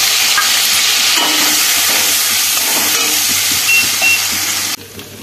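Spice paste of ripe red chili and garlic being stir-fried with potatoes in a pan for a prawn dish, giving a steady loud sizzle with scraping stirs, ending abruptly near the close.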